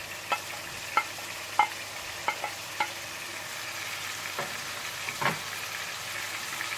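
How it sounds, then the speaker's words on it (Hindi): Onions and green chillies sizzle softly in kebab masala on a tawa, with a spatula scraping and tapping at irregular intervals over a low, steady fry. "थोड़ा सा मिलाने के बाद आप इसमें प्याज और हरी मिर्चें भी डाल दें।"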